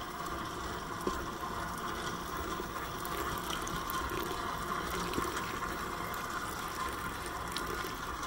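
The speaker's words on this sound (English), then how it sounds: "I'm going to start adding our water" Water is poured steadily into mixed dry bagel ingredients, giving a continuous, even rushing and splashing sound with no speech.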